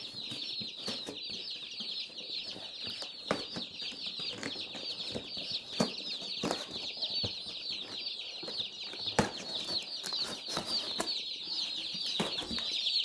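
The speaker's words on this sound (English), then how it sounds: "So we get Cornish crosses from McMurray Hatchery for our meat birds." A dense, steady chorus of high peeping from a brooder full of young Cornish cross meat chicks, many birds calling at once with scattered soft thumps and flutters throughout.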